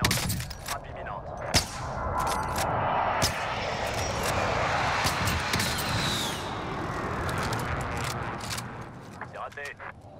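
An airstrike called in during a Call of Duty: Warzone match: a sustained roar of jet aircraft sweeping overhead, with sharp percussive blasts and gunfire-like cracks scattered throughout, under a player's voice speaking.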